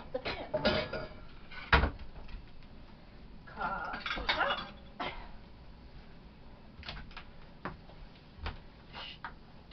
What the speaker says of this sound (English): And now I've got to bend and pick up the pan.